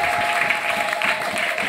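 Steady applause from an audience at a church gathering, dense and continuous clapping filling the space at even loudness, with a faint tone held underneath.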